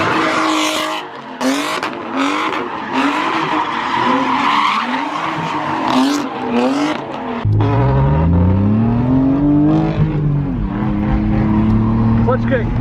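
A drift car at a Stockton Outlaw Drift Series event screams through a slide, its engine revving hard in rising and falling surges over squealing tires, with a loud pitch climb near the end and someone talking over it.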